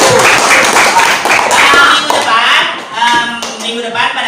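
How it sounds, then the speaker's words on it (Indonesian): An audience claps together for a round of applause in a classroom-style session, dense and continuous handclaps close by, with some voices mixed in. "Oke, tepuk tangan dulu untuk kita semuanya."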